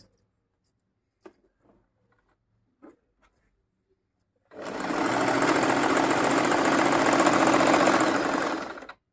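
A Singer M3505 sewing machine stitches a buttonhole in one loud, steady whirring run lasting about four seconds, after a few faint handling clicks in an otherwise quiet room.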